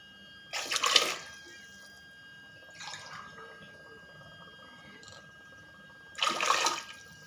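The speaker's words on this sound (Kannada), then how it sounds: "ನೀರು ಹಾಕ್ತಾಯಿದ್ದೀನಿ." Water is poured from a glass into a cooking pot for dill-leaf pulao in three short, quiet splashy pours, separated by near silence.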